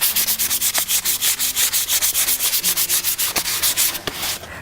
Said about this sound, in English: I'm going to take some 400 grit sandpaper and sand down the grain.